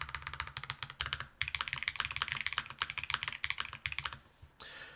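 Typing on a QK65 Mk3 mechanical keyboard, a rapid, close run of crisp clacking keystrokes that pauses briefly and ends with a softer rustle, with no talk.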